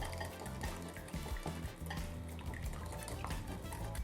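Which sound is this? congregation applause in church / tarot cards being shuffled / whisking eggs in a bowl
whisking eggs in a bowl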